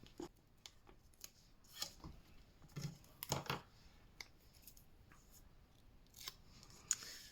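Scissors cutting 3D craft foam, a few quiet, close snips and crunches spaced irregularly with soft handling noise between them, no speech.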